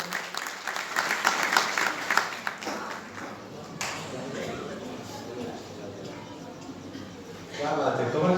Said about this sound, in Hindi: जरा ताली बजाते हैं।